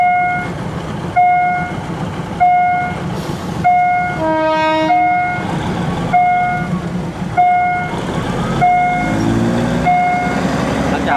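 A train idles at Bang Bon halt in Bangkok, stopped to take on passengers, with steady rumbling, while a repeating electronic chime beeps at regular intervals and brakes hiss faintly.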